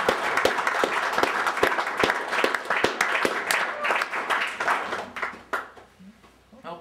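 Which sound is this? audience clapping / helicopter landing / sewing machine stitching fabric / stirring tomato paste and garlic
audience clapping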